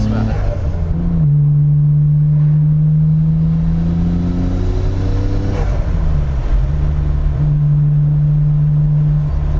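Nissan GT-R with a Tomei exhaust and deleted catalytic converter drones steadily from inside the car, the engine note holding, dipping as revs fall, then rising again, with a voice heard over it.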